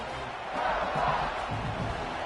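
Stadium crowd noise from the NCAA 26 college football video game forms a steady, broad roar that swells slightly midway, with a muffled bouncing thump faintly beneath it.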